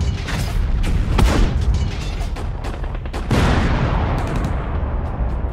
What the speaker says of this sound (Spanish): Tras las primeras explosiones